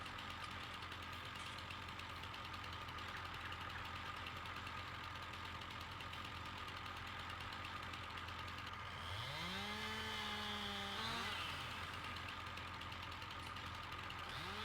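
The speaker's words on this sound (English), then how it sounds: "Chainsaw out." A chainsaw runs at a distance, with a steady idling drone that rises and falls as the engine revs up briefly near the end, all fairly faint.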